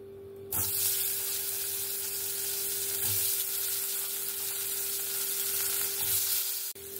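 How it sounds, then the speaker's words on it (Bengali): Boiled potatoes frying in hot oil in a pan, a loud steady sizzle that starts abruptly and holds nearly seven seconds, with a few soft stirring scrapes and no talking. "ওই তেলের মধ্যেই আমি যে আলুগুলো সেদ্ধ করে রেখেছি, আলুগুলো একটু ভেজে নেব।"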